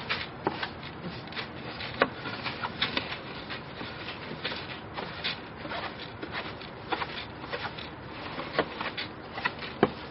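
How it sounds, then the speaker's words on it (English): Freshly roasted coffee beans are stirred in a cooler to loosen the chaff, giving a soft, continuous dry rustling and rattling with small scattered ticks, fairly quiet and steady throughout. "Stir it a little bit to get some of the chaff out."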